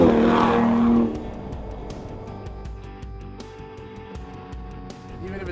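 An Aston Martin Rapide accelerates on the road. A loud engine surge in the first second settles into a lower, steadier cabin drone and road noise.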